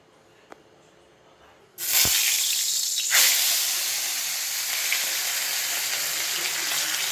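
Hilsa fish pieces drop into smoking hot oil with a sudden loud sizzle that settles into a steady, close, crackling fry after a quiet start.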